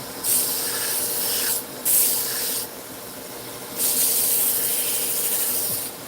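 A Tajiro knife is being sharpened to a new edge, heard as long, close, hissing strokes of steel on an abrasive, three sustained passes separated by brief pauses.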